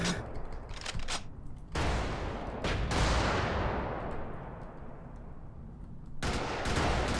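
Enemy gunfire in the video game Brigador: dense, loud bursts of shots and booming impacts crowd together in rapid waves, with brief lulls between volleys.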